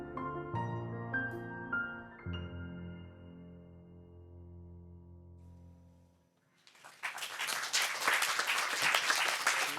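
Audience applause at a French round-table event, bursting in loudly after a few seconds of music and silence and continuing as steady, dense clapping to the end.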